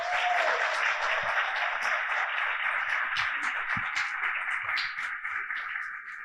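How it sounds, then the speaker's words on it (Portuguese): Sustained audience applause fills a panel-discussion hall, dense and steady clapping throughout that tapers slightly toward the end, with no speech over it. "pedir uma salva de palmas a eles"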